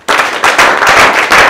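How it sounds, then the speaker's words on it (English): Classroom of students clapping together for a classmate who answered a maths question correctly, a dense burst of loud applause starting abruptly and continuing steadily throughout. "Let us clap for her."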